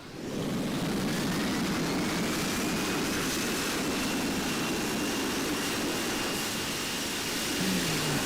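Jet thrust reversers roaring on landing in the Infinite Flight flight simulator game, a loud, steady broadband rumble that holds for several seconds, with no talking over it.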